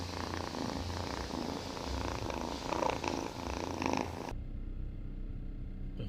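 Toyota AE101 engine idling just after a distributor install, a steady close rumble with a faint rhythmic purr that drops off abruptly near the end.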